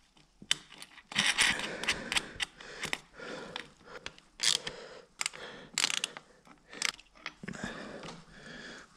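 A nut and washer being tightened onto a bolt while grounding a wire on a Yamaha RD50 motorcycle, with irregular metallic clicks, scrapes and ratcheting bursts close up.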